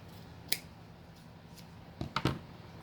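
Scissors cut the chevron ends of a folded ribbon with a few quiet, close snips: a single sharp cut, then a quick cluster of three near the end, over a faint hum.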